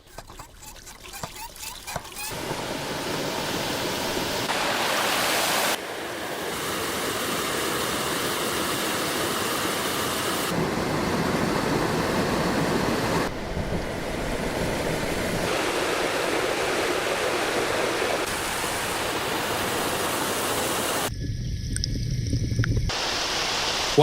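Waterfall and flowing stream in a mountain forest, a steady broadband rush of water that stays loud and continuous throughout, shifting slightly in character between stretches as if from different spots along the falls.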